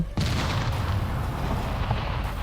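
A car blows up in the survival video game Scum: one loud, sudden boom that rolls into a sustained, roaring, rumbling blast lasting a couple of seconds.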